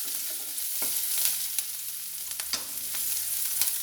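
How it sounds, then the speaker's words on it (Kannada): Slit green chillies and turmeric fry in a pan, giving a soft, continuous sizzle with small crackles and spatters, close and fairly quiet. "ಹಾಗೆ ಸ್ವಲ್ಪ ಅರಿಶಿಣ ಫ್ರೈ ಮಾಡ್ಕೊಳ್ಳೋಣ."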